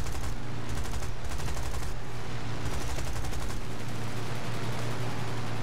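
Rapid, sustained small-calibre machine-gun fire from a P-63 King Cobra fighter in the War Thunder air combat game, dense continuous bursts over a steady engine drone, loud and without pause.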